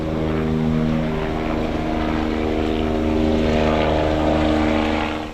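Helicopters whirl overhead at a New Zealand park gathering after the Al Noor Mosque shooting, a steady loud rotor drone with low harmonic hum holding throughout, with no talk.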